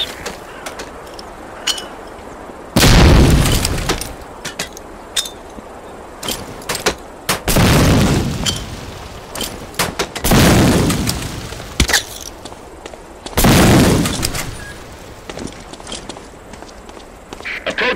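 Grenade explosions go off inside concrete boxes in Medal of Honor: Allied Assault, four loud, heavy blasts spaced several seconds apart, with footsteps and small clatters between them.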